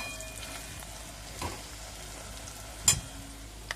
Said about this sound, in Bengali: বেরেস্তা আস্তে আস্তে ভাজা হচ্ছে।